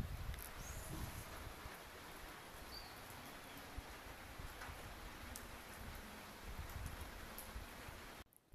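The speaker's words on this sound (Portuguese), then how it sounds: "Tá chovendo aqui fora já, ó." Rain falls outdoors as a steady, faint hiss with scattered soft ticks and patters throughout, no voices, ending with a sudden cut.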